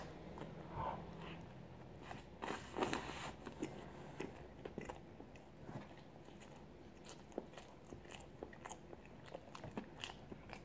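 Someone bites and chews an Inga sandwich filled with blueberry jam, soft close crunches and wet mastication over a low room hiss, with no talking.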